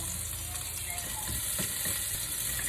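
Aromatics sizzling in hot oil as a base for beef bulalo, a steady close hiss and crackle with occasional stirring scrapes, no voices.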